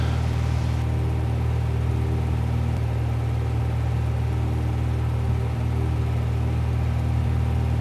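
Steady, loud droning engine of a small training airplane during takeoff on a solo student flight, a continuous rumble heard from inside the cockpit without talk.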